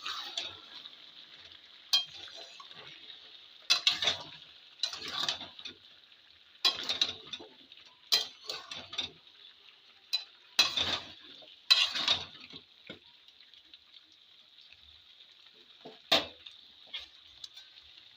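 Pumpkin with chickpea dal and beef stirred in a pot, a steady frying hiss broken by intermittent scraping and clanking stirs of a spoon against the pot.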